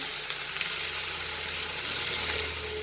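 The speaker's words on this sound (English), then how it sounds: "Here my prawns are getting fried." Half a kilo of prawns sizzles in hot oil for a Goan balchao, a dense, steady frying hiss with faint crackles and no voices.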